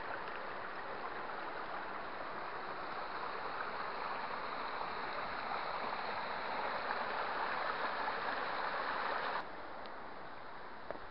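Steady rushing of a meandering river over visible stones in Scotland, an even broadband wash with no pauses, continuous throughout and cutting slightly quieter near the end.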